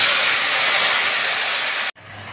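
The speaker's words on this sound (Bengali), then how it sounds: "এটা করে রেখেছিলাম সাদা জিরে, আদা, পেঁয়াজ, রসুন, শুকনো লঙ্কা দিয়ে এখন দিয়ে দিচ্ছি তেলের ভিতরে।" Cumin, ginger, onion, garlic and dried chilli paste hits hot oil with a loud, steady broadband sizzle that runs close and unbroken for about two seconds, then cuts off abruptly into quiet.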